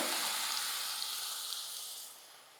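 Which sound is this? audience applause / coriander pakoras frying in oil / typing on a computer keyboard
coriander pakoras frying in oil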